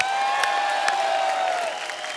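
A studio audience at a TV comedy show applauds in a steady, dense wash of clapping, with a faint musical tone underneath.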